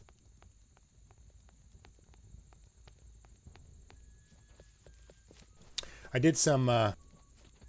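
Horse hooves plod along in the Haven & Hearth video game, a soft steady clip-clop of walking steps repeating under a quiet backdrop, followed by a brief burst of someone talking near the end.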